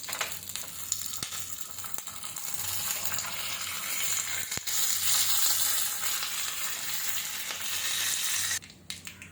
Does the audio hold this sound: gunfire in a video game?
no